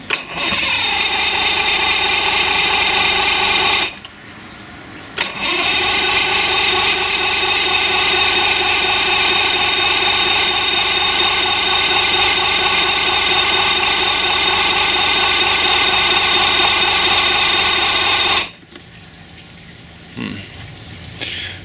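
The engine on a DuraCraft boat fires up and roars loudly, cuts out, then restarts and runs at a steady drone for about thirteen seconds before shutting off, leaving near silence.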